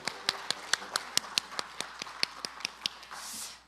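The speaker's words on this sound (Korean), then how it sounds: "큰 박수로 시작하겠습니다" Clapping at the opening of a symposium session on the value of agriculture and education: crisp, evenly spaced claps landing in a steady rhythm, fairly close, then easing into a brief soft shuffle at the end.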